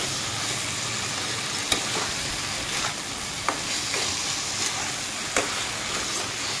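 Paneer and spice paste being sautéed in a pan, a steady sizzling hiss with several sharp spatula scrapes and taps spaced through it, close and moderately loud, no voices.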